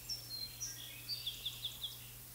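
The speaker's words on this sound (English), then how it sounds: "to the sound of the bird." Outdoors, a single bird sings a short run of thin, high chirps, about eight quick notes evenly spaced, faint and a little distant over quiet background hiss.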